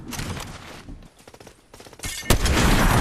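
Fortnite gunfire rattles out in rapid bursts, loud and close, breaking briefly into scattered shots before a heavy blast and sustained firing surge back in.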